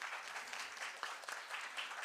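Faint, steady applause from a conference audience welcoming speakers, a dense patter of many hands heard from a distance for about two seconds.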